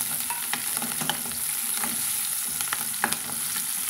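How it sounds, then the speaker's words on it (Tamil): Small shallots sautéing with mustard seeds and fenugreek in a pan for a bitter gourd tamarind curry, a busy close sizzle with frequent stirring scrapes and the crackle of popping seeds. "இப்போ இந்த வெட்டி வச்சுக்கிற சின்ன வெங்காயத்தை வந்து இது கூடவே சேர்த்துக்கலாங்க."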